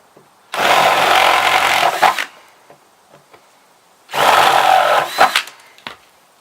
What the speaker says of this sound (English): I'm just going to re-drill out or re-bore out the other 2 holes on the other side